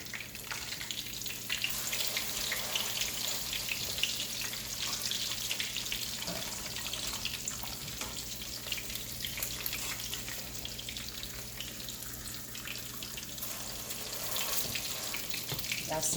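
Cheesy chicken fritters sizzle and fry in a pan, a steady, fairly quiet crackling hiss that runs unbroken throughout.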